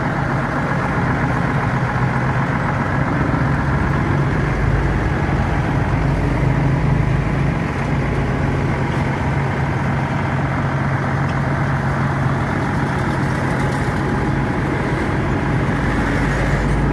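An old intercity bus with an SR1 body idles at a roadside stop near Palembang, its engine giving a loud, steady low rumble that drones on without a break.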